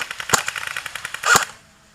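Two sharp airsoft gun shots crack out during an airsoft game, close and loud, separated by about a second, with a brief rattle of lighter pops between them.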